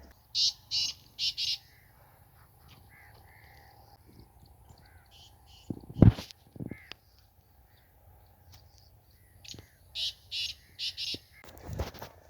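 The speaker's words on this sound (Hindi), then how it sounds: "चलिए अब यहाँ से ही रुक कर मैं आपको बटेर यानी कि तितरों की आवाज़ सुनवाता हूँ" Quails or partridges call in a Pakistani village, short repeated bursts in two groups near the start and end, with faint rustling and a couple of louder knocks between.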